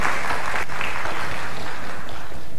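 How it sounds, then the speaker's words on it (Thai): Seminar attendees at a talk on crowdfunding and capital markets for business innovation clap in sustained, fairly loud applause that fills the short stretch with no talking over it. "ขอเสียงปรบมือด้วยค่ะ"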